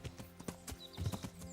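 Horse hooves clip-clop in a steady rhythm on the road in Kingdom Come: Deliverance, a string of close, fairly quiet hoofbeats over about a second and a half with no talk.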